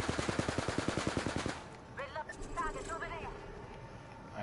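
Rapid automatic gunfire from the Apex Legends video game rattles in a fast, even burst of about fifteen loud shots, then stops while a voice talks over faint game sounds.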